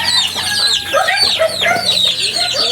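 Chickens in a coop cluck busily and continuously, with a rooster's crow mixed into the dense, close flock chatter.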